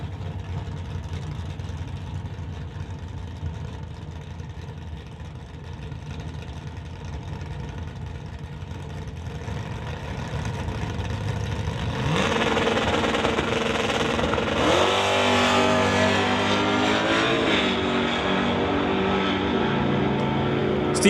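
A Dodge Dart and a Golf R at a drag strip: engines idle steadily, then rise into louder revving with shifting pitch as the cars pull away.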